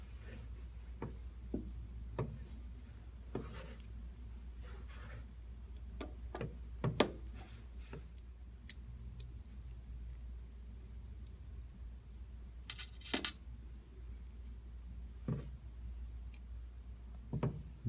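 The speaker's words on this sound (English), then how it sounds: "I'm now going to show how to remove the lens from the assembly using a 5/64 standard Allen wrench" Small metal screws being backed out of a laser lens assembly with a 5/64 Allen wrench, giving faint, scattered ticks and light clicks over a steady low hum, with no talking.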